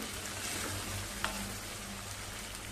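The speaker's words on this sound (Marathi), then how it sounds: "चांगला बटाटा एकदा हलवून घेऊया." Partly cooked potatoes for aloo methi stirred in a pan after the lid comes off: a faint, even sizzle with one brief spoon knock midway, quiet and with no voices.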